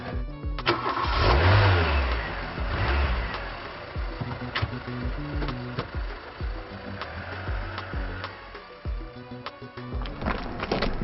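A car engine starts and revs as the vehicle pulls away, a mid-pitched growl rising and settling over several seconds amid scattered clatter and background noise, fairly close.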